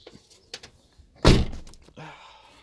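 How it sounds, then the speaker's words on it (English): A Toyota Yaris T-Sport car door is shut once with a loud, close, solid thunk in the middle, preceded by faint shuffling and followed by a low rustle. "I'm gonna get in and shut my door quickly actually."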